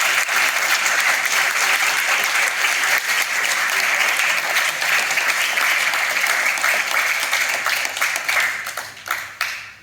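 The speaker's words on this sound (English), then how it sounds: "Get a round of applause" Audience applause at an outdoor 40-year celebration for Anthony, sustained dense clapping from a sizeable crowd that holds steady for most of the stretch, then thins out and tapers off in the final moments.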